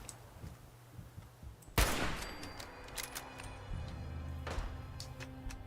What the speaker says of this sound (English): I hear gunshot